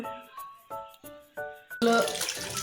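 Running tap water gushes loudly into a sink for washing. It starts abruptly after a series of short, evenly spaced tonal pulses and continues strongly to the end.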